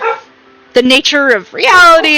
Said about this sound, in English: I'm so sorry for my barking dogs.